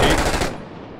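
A rapid burst of automatic gunfire in the war shooter Six Days in Fallujah, loud and dense at first, then trailing off into a fading echo within a second.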